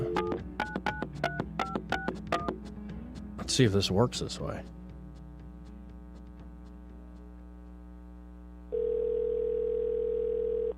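Telephone keypad tones beep in a quick sequence during a live radio call to a carpet business, followed by a steady hum, a brief spoken line, and then a loud, continuous dial tone near the end.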